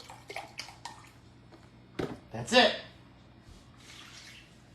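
Liquid poured and splashing into a pot while cooking pumpkin orzo, a short burst of splashing close by, with talking around it.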